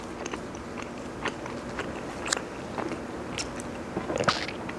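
Close, steady chewing and biting on sweet potato, with soft crunchy, moist mouth sounds repeating through a quiet room and no talk.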